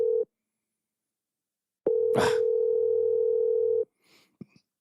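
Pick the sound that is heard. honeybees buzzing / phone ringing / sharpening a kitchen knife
phone ringing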